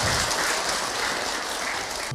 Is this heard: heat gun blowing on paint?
no